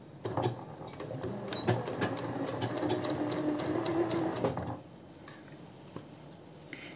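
A sewing machine stitches along a summer jumpsuit neckline, running in one steady close whirring burst for about four and a half seconds before stopping, leaving quiet room tone.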